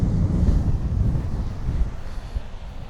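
Strong wind buffets the microphone on an open par-3 golf hole in Iceland, a steady low roaring rumble with gusty swells lasting throughout, no voices.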